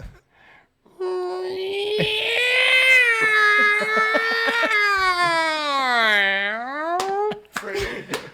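A voice imitates a cat with a long, drawn-out wailing meow that rises, dips and rises again, loud and close, ending with a short breathy burst.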